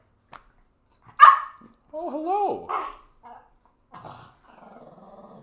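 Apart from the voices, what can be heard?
dog grumbling and barking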